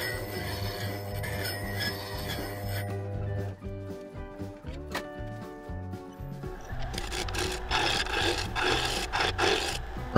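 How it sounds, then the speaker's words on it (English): A lathe gouge makes pull cuts across the face of a Mudgee River sheoak bowl, a close scraping, rasping sound over a humming lathe that gets rougher and louder toward the end. "I'm doing some pull cuts across the face, trying to flatten it out"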